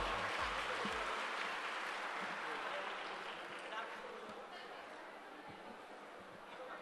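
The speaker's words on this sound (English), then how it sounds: "A big round of applause for them." A round of applause for paper presenters at a technical conference session: a diffuse, continuous wash of many hands clapping, fairly faint and distant, tapering gradually toward the end.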